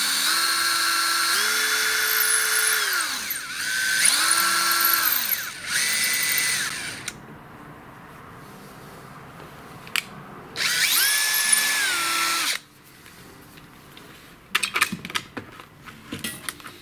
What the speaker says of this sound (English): from there it's just a matter of drilling.